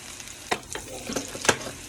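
Wild mushroom risotto base cooking in a pan with a little salt added, a soft steady sizzle broken by a few brief stirring scrapes, close and fairly quiet with no talking.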